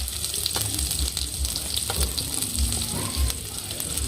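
Vegetables such as onion, carrot and chilli fry in a pan for fried rice, giving a steady close sizzle with a few soft stirring knocks and no talk.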